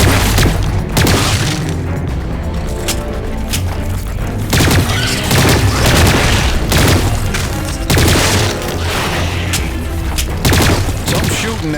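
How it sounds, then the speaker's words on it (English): Dense, loud gunfire and heavy explosions from combat in the Lost Planet 3 video game, with rapid shots and deep booms rolling over one another close up for the whole stretch. "Some shooting there."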